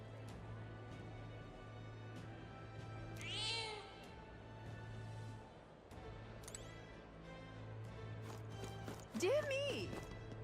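A cat meows in the video game Metaphor: ReFantazio, two short mewing calls a few seconds apart over a steady low game hum, with a brief louder burst near the end.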